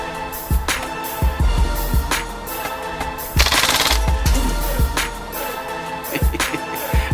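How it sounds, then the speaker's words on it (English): A MAC11 gas airsoft gun firing full automatic, rapid sharp bursts of shots with a hissing gas blast in the middle, loud and close outdoors, emptying the magazine quickly. "Let's try full automatic"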